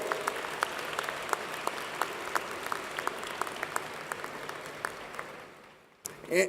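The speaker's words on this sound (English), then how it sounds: "How about a big round of applause for the best there is, y'all?" An audience at an electric cooperative's annual business meeting claps steadily for several seconds in a large room, the applause fading out before a voice starts speaking at the end.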